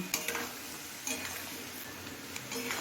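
Raw banana sautéing with spices, salt and a splash of water in a pan, giving a quiet steady sizzle with soft stirring scrapes and occasional light clinks of a utensil against the pan.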